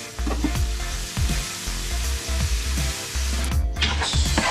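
Garlic, ginger and onion sauté in hot oil for a milkfish tochong dish, a loud steady sizzle broken by repeated scraping stirs of a utensil against the pan, with no talking.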